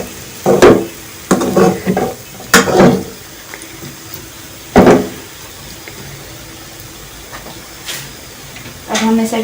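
Spoon stirring onion masala frying in a pan, a potato filling for samosa rolls, comes through as several scraping stirs in bursts over a soft background sizzle, with quiet pauses between the strokes.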